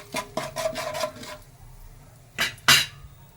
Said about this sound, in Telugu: ఒక స్పూన్ ఉప్పు వేసి కలిపి